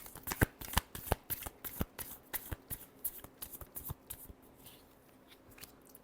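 Tarot cards are shuffled close up in a quick series of crisp riffling snaps and slaps, the bursts coming fast at first then thinning out and fading near the end.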